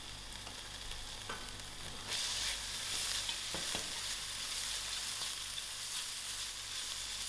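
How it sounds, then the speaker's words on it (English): Onions sizzle in a pan with ginger garlic paste and crushed garlic, a steady frying hiss that swells louder after about two seconds, with a few faint stirring knocks and no talk. "I will allow this to also fry for a few minutes."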